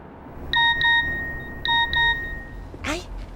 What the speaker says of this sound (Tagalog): Ay, may nag-text.